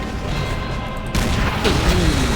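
An explosion in Call of Duty: World at War, a World War II shooter, hits abruptly partway through as a loud broadband burst over ongoing rumbling battle noise.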